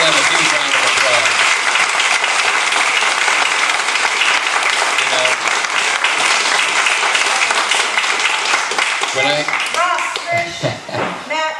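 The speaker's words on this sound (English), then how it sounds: "Let's give them a huge round of applause." Loud, dense audience applause at a rural political summit in Morgan and Johnson County, steady for several seconds before thinning into scattered claps and cheers near the end, with people talking underneath.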